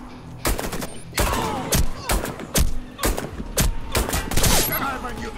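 Repeated bursts of gunfire from the video game Warface, shots in quick clusters with short gaps, loud and close over a busy game soundscape.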